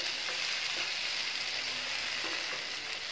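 Malai boti sizzles loudly in a pan over a high flame, a constant close frying hiss with soft spatters and no talking.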